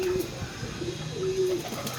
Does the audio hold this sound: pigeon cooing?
yes